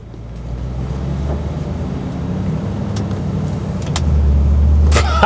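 A truck climbs a hill in four-wheel drive low, its engine giving a deep, steady drone that swells louder toward the end, heard close with faint knocks and rattles and no talking.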